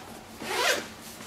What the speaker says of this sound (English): All the zippers seem to be working just great too